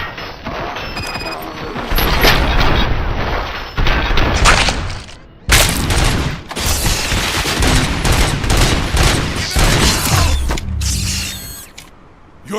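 Heavy gunfire in the first-person shooter RoboCop: Rogue City, loud and sustained bursts of shots with booming impacts and crashing debris, briefly dropping out then resuming as a dense fusillade.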